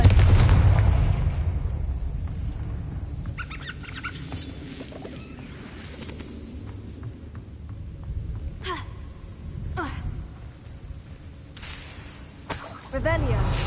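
A booming fiery blast from the Confringo spell in Hogwarts Legacy, loud at the start and decaying into rumbling crackles, with a few sharp impacts and a voice talking nearby.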